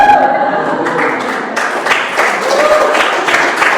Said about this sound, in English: You guys are really funny at what you're clapping tonight